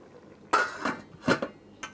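A lid goes onto a cooking pot with a few sharp metallic clanks and clinks, close and fairly quiet, with short pauses between them.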